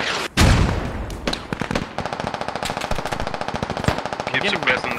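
Automatic rifle fire in the military shooter Squad, a loud, rapid, continuous burst of shots after an opening blast, with voices shouting underneath.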